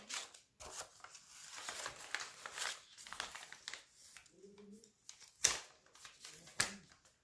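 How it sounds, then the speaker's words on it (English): Scissors cut across the bottom of a paper lunch sack, giving a few close, quiet crisp snips and paper rustles with gaps between them. "Okay, so I'm going to cut off the bottom part."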